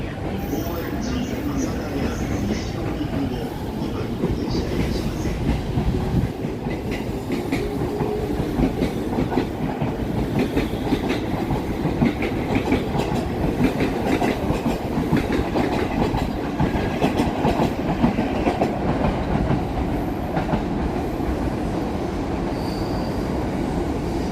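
A train passes through the city in Tokyo. Its wheels clatter and rumble steadily the whole time and squeal at moments. Some voices can be heard underneath the noise.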